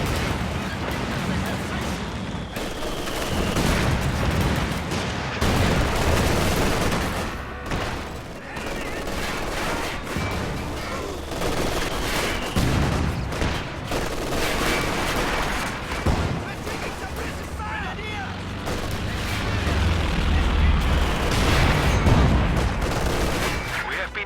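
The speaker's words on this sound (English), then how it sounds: "Hackhowitzer and Ostermortar both doing work" Artillery fire from a howitzer and a mortar in a Company of Heroes match: dense, continuous booms, blasts and crackling fire filling the whole stretch, loud and layered beneath steady excited commentary.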